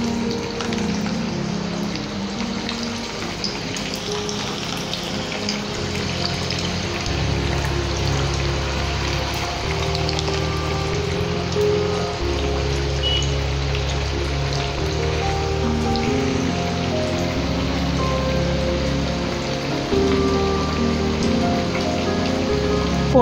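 Maddur vada fry in hot oil with a continuous crackling sizzle, steady and close throughout, over a faint low hum.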